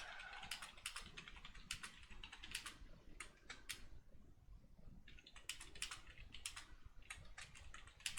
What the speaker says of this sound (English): probably from like how much typing I'm doing